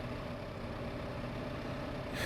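A tractor engine in the video game Farming Simulator 15 runs at a steady, even drone, low and rumbling, with a brief lift in noise right at the end.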